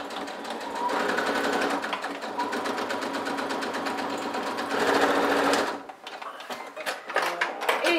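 Sewing machine stitching fabric for a makeup pouch, a close, rapid, continuous whirring run that stops near the end, leaving light handling noises.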